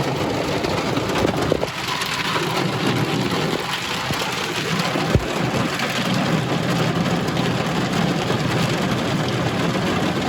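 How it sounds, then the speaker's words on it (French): Rain falls steadily in the Alps, a dense, even hiss that lasts throughout, with a faint low rumble beneath and a few soft knocks. "Il pleut, c'est horrible."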